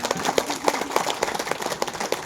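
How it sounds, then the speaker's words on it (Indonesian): Audience applause at a talk on self-transformation and emotional control, a smaller scattering of claps with distinct individual hits in an uneven rhythm, moderately loud and fairly close. "Kalau begitu tepuk tangan untuk kita semua."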